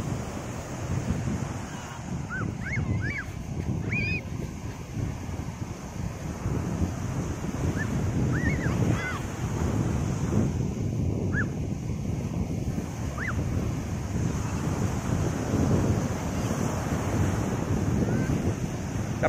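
Steady surf washes in at Pantai Penarik beach in Setiu, with wind buffeting the microphone, and a few faint high chirps come and go over the roar.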